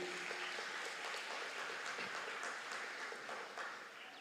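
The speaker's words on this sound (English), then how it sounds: "Let's give them a round of applause, please" Graduation ceremony guests at a secondary school give the administration and staff a round of applause: continuous, even clapping from a large crowd, quiet and somewhat distant, tapering slightly at the end.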